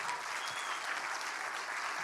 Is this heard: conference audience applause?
yes